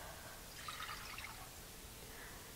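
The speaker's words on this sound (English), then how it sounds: "We're gonna add 1 cup of water." One cup of water pours into a medium saucepan in a home kitchen, a faint steady trickling and splashing heard close over a hissy background, lasting a couple of seconds.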